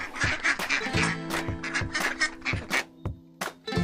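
Duck quacking in a rapid series of short, nasal calls, close and fairly clear, with a few brief pauses between bursts.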